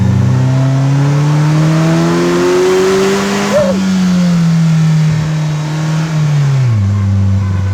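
A 2018 Polaris Slingshot SLR's 2.4-liter four-cylinder engine pulls hard, its loud droning pitch climbing steadily through the gears, with a brief shift blip midway and a drop as it eases off near the end.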